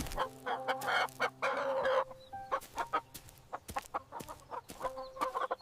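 A chicken clucks repeatedly nearby in short irregular bursts, with a few louder stretched calls among the choppy clucks and no talking.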